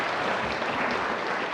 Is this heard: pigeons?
no